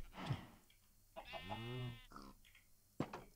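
A Minecraft goat bleats once in a long, wavering cry, surrounded by a few short thumps and brief noises.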